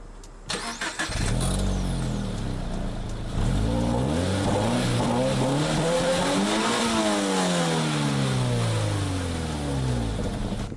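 A Subaru BRZ sports car's engine cranks and fires up, then revs repeatedly, the exhaust note rising and falling in smooth sweeps, loud and close, with no voices.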